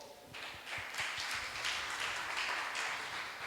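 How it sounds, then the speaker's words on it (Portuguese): Congregation applauding the Lord during a church service, a steady wash of many hands clapping that swells and holds, fairly distant and even. "Vamos aplaudir o Senhor?"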